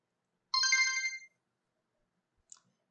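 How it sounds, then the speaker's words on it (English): A phone ringtone sounds in an SCP horror video game: one bright, melodic electronic ring lasting under a second, then near silence with a tiny faint blip. "It's a phone!"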